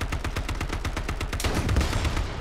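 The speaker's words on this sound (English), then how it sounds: "Pulled out my shotgun for that." Rapid shots crack out in a quick, even rhythm in H1Z1, a close burst of gunfire followed by a heavier blast near the end, with no voices over it.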